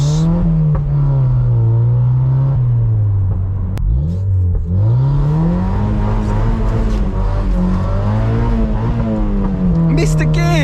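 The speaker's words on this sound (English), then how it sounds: "Missed a gear. I missed second." A Mazda MX5 2.0L Sport engine flares and its revs rise and fall loudly after a missed shift into second gear. The engine drones up close and steadily, with brief shifts in pitch and no talking.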